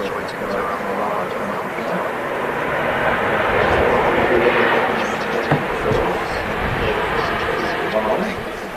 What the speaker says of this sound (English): The Ryanair just touching down there, smoky touchdown from the 737-800